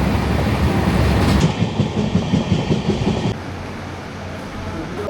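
The Steel Express train running on rails between Howrah and Tatanagar, a loud close rumble with rhythmic clatter of wheels that drops to a steadier, quieter roar partway through.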